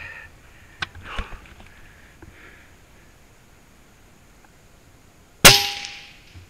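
Single sharp report of an Air Venturi Avenger .25 air rifle fired outdoors from a prone position in the field, loud and close with a brief ringing tail, after a few faint rustles and clicks.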